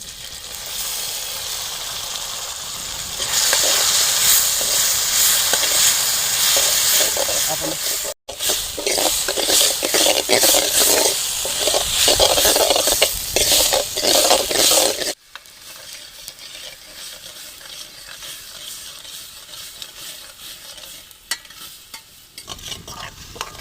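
Tomatoes frying and stirred in a pan for a village-style egg yolk fry, a loud hissing sizzle with rapid scraping strokes that drops to a quieter simmer near the end.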